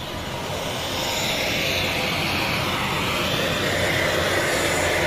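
Aircraft near Edinburgh Airport produce a loud, steady roar of engine noise that swells slightly and then holds constant, broad and dense, with no voices over it.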